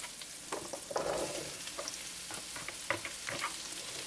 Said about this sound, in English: we're just going to kind of fry those up for a few minutes